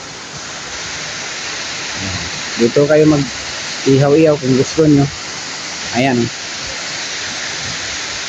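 Lubcon Falls in Cortes, Surigao del Sur pours as a constant broadband rush of water throughout, while someone speaks a few short phrases over it.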